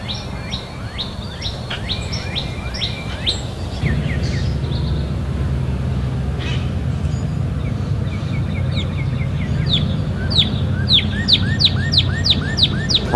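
A northern cardinal sings a clear, loud series of repeated downslurred whistles, phrases rising in pace toward the end, over a low steady background hum.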